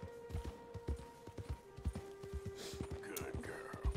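Horse hooves clip-clop in a steady rhythm as a rider moves along in Red Dead Redemption 2. The beats are close and distinct, with a low hum in the background.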